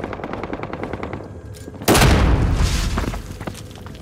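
Video game gunfire: rapid repeated automatic shots at first, then a sudden loud blast with a long rumbling, crackling decay, all close.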